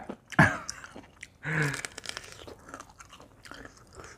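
Someone bites and chews spicy fermented som tam papaya salad, with a crisp crunch near the start and another burst of chewing a second later, then softer mouth sounds, close to the microphone.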